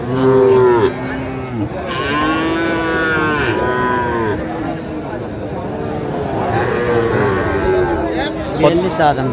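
Sahiwal bulls at a busy Naogaon cattle market moo repeatedly, the long bellowing calls coming close and loud, one after another, over a constant hubbub of crowd chatter and talking voices.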